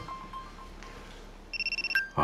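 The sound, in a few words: telephone ringing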